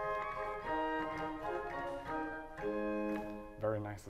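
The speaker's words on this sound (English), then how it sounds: "The Gemshorn by itself sounds like this." A 4-foot Gemshorn stop on a pipe organ plays alone, giving a bright, gentle tone in a sequence of sustained notes and chords that hold steady with a slight swell near the end.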